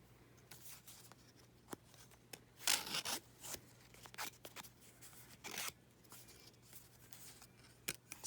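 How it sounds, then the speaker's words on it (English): A small paper distressor tool scrapes along paper edges in a series of quick, dry rasping strokes, soft and close, with irregular pauses between bursts. "I'm gonna use my little paper distressor, take off those dots"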